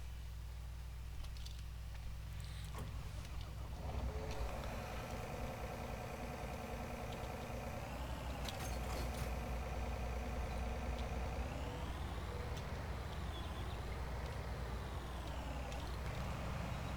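A John Deere harvester's engine in Farming Simulator 19 starts up and idles steadily, a continuous low mechanical drone with a rising and falling hum as revs shift and a faint air-brake hiss.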